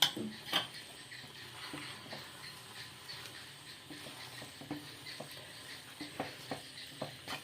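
Boiled chicken pieces being tossed into noodles in a pan, with repeated light metallic clinks and scrapes of a utensil against the pan in an uneven rhythm, fairly quiet.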